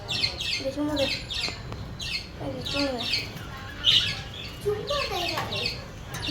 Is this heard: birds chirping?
yes